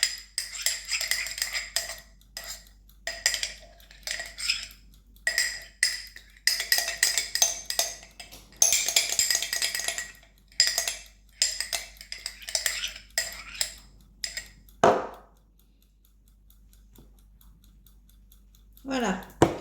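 A utensil scrapes a bowl clean while preparing a gluten-free shrimp and spinach tart, in repeated short scratchy strokes close up, then a brief pause and a couple of final scrapes.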